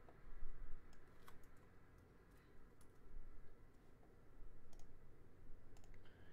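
Soft, quick keystrokes tap on a computer keyboard as a command is entered into an Anaconda prompt: sparse clicks in uneven bursts over a low, steady room hum.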